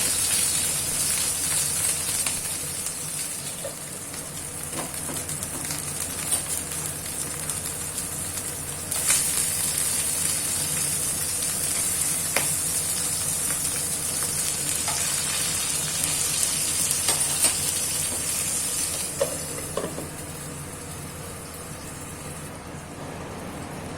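Hilsa wrapped in pumpkin leaf fries in a pan with a soft, continuous sizzle and scattered small pops and crackles over a long stretch.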